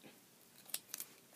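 Scissors snip paper pieces for a stamp project: a few quiet, close, crisp cuts, one single snip followed by a quick double snip, in an otherwise hushed room.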